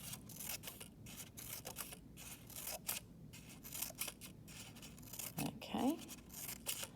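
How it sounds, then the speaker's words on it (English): Scissors snipping tassels into a fabric collar for a costume, rapid quiet close-up clicks in a busy rhythm of short cuts, with faint voice sounds in the background. "I'm just going down here, cutting little snips in."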